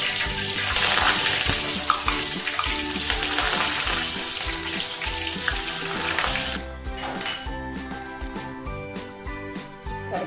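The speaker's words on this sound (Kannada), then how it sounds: "ಈಗ ಕೊಬ್ಬರಿನ ಫ್ರೈ ಮಾಡ್ಕೊತಾ ಇದ್ದೀನಿ." Dry coconut fries in hot oil for poha chivda, giving a loud, dense sizzle that fills the pan for several seconds before dropping to a softer crackle with faint stirring.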